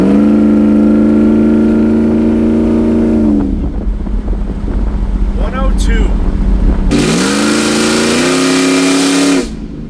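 A Ford Lightning truck with a new exhaust revs at about a third throttle, holding a loud, steady drone that dips midway through, then climbs again before cutting off.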